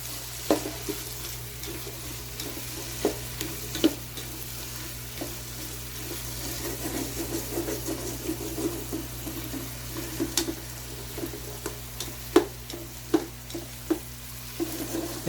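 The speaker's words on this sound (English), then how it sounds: "And then give it a stir." Vegetables and dried basil sizzle and fry in a pan while being stirred, a steady hiss with scattered clicks and scrapes of the utensil against the pan, close by and alone with no talking.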